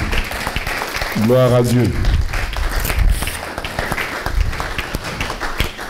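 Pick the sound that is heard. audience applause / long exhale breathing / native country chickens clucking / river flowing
audience applause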